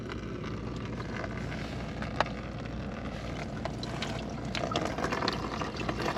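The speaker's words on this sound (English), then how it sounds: "Oh, I can see water rushing out." Rushing, churning water flowing through a jet boat's engine, with gusty wind noise, steady throughout and growing a little louder toward the end.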